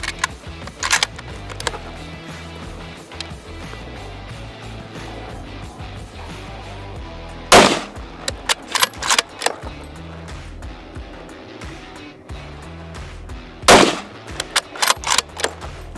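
Sako 90 hunting rifle firing Winchester 150 grain ballistic silver tip rounds at an outdoor range, with two sharp, loud shots well apart, each followed by brief echoing clatter and handling noise.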